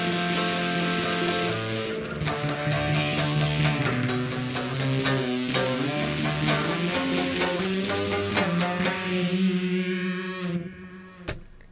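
A heavily distorted electric guitar through a pedal chain with a Sun Face fuzz clone plays a wavering, buzzy melodic line with thick sustained tones, loud and close, ending with a short sharp hit.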